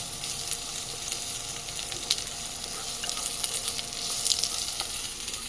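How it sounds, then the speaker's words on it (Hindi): Beans and carrots stir-fry in a hot pan with a constant loud sizzle, broken by light scrapes and clicks from stirring. "बीन्स एंड कैरेट डालिए और इनको स्टर फ्राई करेंगे"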